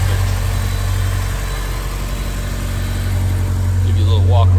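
A 2001 Honda S2000 AP1 idles steadily with a deep, healthy exhaust tone, not loud, a smooth low rumble heard close to the exhaust with a faint high whine above it.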